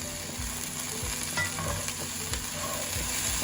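Curry leaves and vegetables sizzle in a cast iron pan, with a spoon stirring and scraping in a steady rhythm under a continuous close fry.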